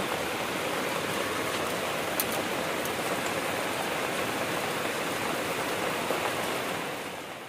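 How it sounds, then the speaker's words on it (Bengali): Heavy rain pours down steadily outside a home, a dense, continuous hiss and patter that stays loud and unbroken throughout, easing only slightly at the very end. "বিশাল জোরে বৃষ্টি নেমেছে"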